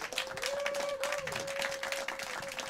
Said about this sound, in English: One more round of applause for this great man